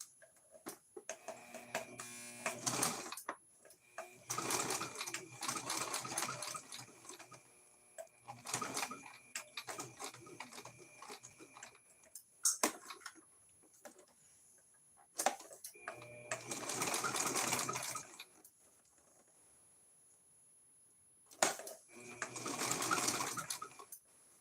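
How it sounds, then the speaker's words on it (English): A sewing machine stitches down a handmade spring coaster in several bursts of a few seconds each, close and moderately loud, separated by quieter pauses with small handling sounds. "Let me sew this down"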